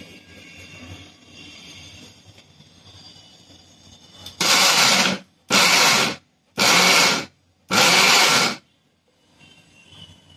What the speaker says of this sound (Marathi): आता बाकीचं सुद्धा आपण असंच मिक्सरवर बारीक करून घ्या.